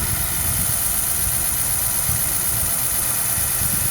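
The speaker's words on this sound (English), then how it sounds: "Fuel pump's running." A steady, continuous mechanical hum with a high electric whine on top, droning evenly with no breaks and no talking, from the fuel pump of a 6.0 Powerstroke truck with intermittent stalling.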